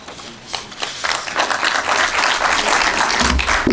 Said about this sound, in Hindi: चलो एक बार फिर से हम ताली पीट लेंगे